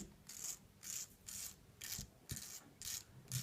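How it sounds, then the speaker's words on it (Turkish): A lighter flint is scraped into powder with a metal tool in about seven even rhythmic rasping strokes, close and quiet, with brief pauses between and no talking. "toz haline getirelim çakmak taşını"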